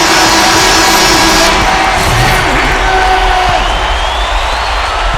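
Thunderous crowd in an NBA 2K13 basketball game, Lakers against Heat, a loud, unbroken cheering roar with scattered whoops and shouts that fills the whole stretch.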